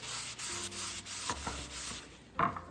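Old English furniture polish rubbed by hand over the inside and outside of a thrifted wooden piece, a close, steady soft rubbing with a few brief knocks and scrapes near the end.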